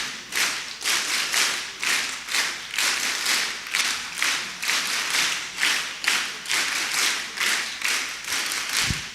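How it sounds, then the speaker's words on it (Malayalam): An audience at a Muslim League district committee gathering claps in unison to a steady 1-2, 1-2-3 rhythm, the groups of loud hand claps repeating evenly without pause. "ഞാൻ നല്ല സ്ട്രോങ്ങില് ഇനി ഒന്ന് താളത്തിൽ കൈയടിക്കാം. ഞാൻ പറയണ മാതിരി 1 2 1 2 3."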